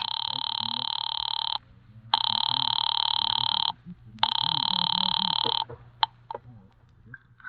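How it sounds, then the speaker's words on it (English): An old telephone bell rings loudly in three long bursts separated by short pauses, close by, followed by a couple of faint clicks, in a 1944 radio drama. "Ringing Murray Hill 40098."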